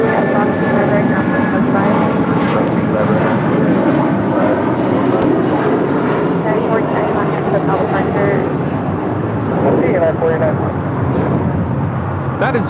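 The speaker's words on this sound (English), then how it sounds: "That is United Airlines 489 departing to Denver, Colorado on a 757-300." A United Airlines Boeing 757-300 departs for Denver, its jet engines roaring loud and close in a sustained rumble that swells toward the end, with people talking over it.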